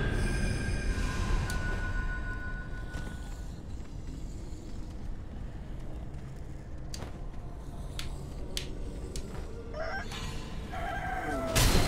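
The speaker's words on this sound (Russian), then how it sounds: "Сраный петух меня отвлек." A rooster crowing and clucking inside the video game Sekiro, heard faintly through a busy game soundscape with a few sharp clanks and hits, with no speech.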